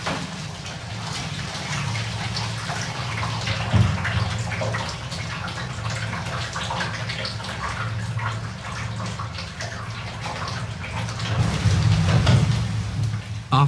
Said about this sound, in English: With the help of boiling water, the rest of the wax is washed out.